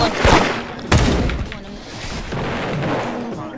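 Gunfire in a video game, heavy booming shots near the start and around one second, then a steadier rumble of firing under a low background.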